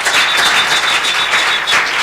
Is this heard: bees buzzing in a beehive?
no